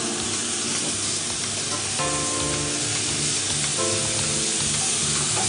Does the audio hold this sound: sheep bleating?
no